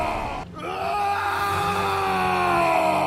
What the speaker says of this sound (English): Is that the same exact scream, like copy and paste? Did they reuse the audio file?